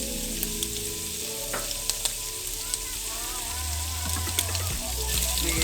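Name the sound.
bacon frying and sizzling in a pan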